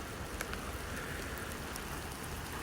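Rain falls steadily during a winter snowstorm with icicles on the trees, a soft continuous hiss of drops with a few faint ticks, fairly quiet and even.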